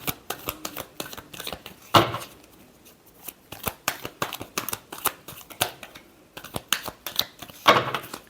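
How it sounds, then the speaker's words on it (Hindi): Tarot cards being shuffled in repeated crisp riffling bursts, close and fairly loud with short pauses between, during a Capricorn weekly horoscope reading. "एक शफल और करें।"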